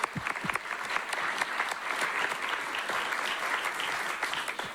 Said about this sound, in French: j'aimerais juste qu'on applaudisse Sylvain Beorca